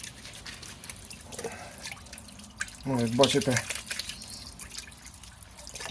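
Tap water trickles and splashes over greasy, oil-stained hands being rinsed at a sink, a soft steady flow with a brief louder splash, under a man's speech.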